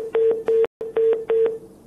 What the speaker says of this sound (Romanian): exact la momentul întrebării cheie s-a întrerupt legătura telefonică